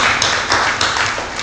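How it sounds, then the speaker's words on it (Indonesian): A church congregation clapping for Jesus: close, steady applause from a crowd, with fairly rhythmic claps and no talk over it. "Tepuk tangan dulu dong buat Tuhan Yesus yang baik."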